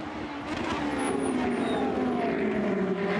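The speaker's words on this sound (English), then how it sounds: "Brakes absolutely screaming." A race car on a circuit during a CoppaShell racing round at Sochi screams past with a high, sliding tonal whine, loud and close over roaring track noise for a few seconds.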